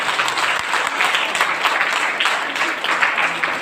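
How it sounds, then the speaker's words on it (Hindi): Crowd in a marriage hall at a DXN event gives a dense, lively round of clapping, close and continuous throughout. "तो मैं चाहता हूँ घनश्याम सर के लिए एक जबरदस्त ताली हो जाए।"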